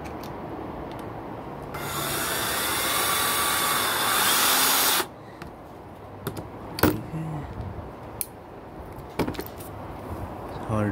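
Black and Decker 18V Firestorm drill driving screws, a loud whirring burst of about three seconds, then silence with scattered clicks and short handling knocks.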